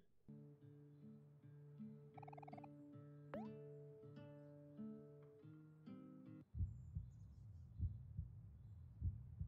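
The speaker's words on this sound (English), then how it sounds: "I can hear heartbeats." Heartbeat in the video game Omori, heard after the music stops while riding a raft: a steady low thumping pulse in the second half, following a stretch of sustained game music tones.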